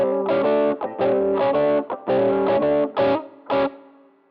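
Distorted electric guitar plays a slow 12-bar blues rhythm variation, chugging chords in short, evenly spaced bursts with brief gaps, loud and close, fading out at the end.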